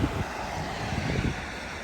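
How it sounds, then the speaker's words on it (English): A small waterfall beside a canal gives a steady, close rush of falling water, continuous and fairly loud with no voices over it. "There's the mini waterfall there."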